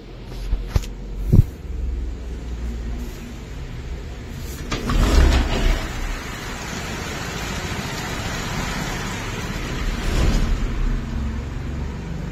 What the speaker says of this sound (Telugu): భయంకరంగా వర్షం పడుతుంది.